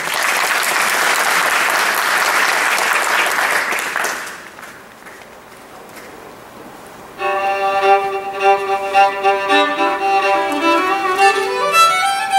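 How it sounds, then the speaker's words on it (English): An audience at a state fiddle championship claps loudly and steadily for about four seconds, then fades out, and a fiddle tune starts up after a short quiet gap. "Please, a nice round of applause for contestant number 1."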